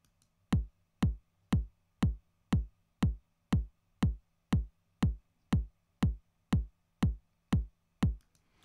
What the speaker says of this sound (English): just a straightforward bass drum part playing 4 to the beat